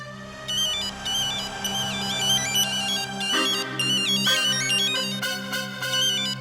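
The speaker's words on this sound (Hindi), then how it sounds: "किसका फोन है गोल्डी?" A melodic phone ringtone plays continuously, a bright repeating electronic tune over a steady low backing, without any talking.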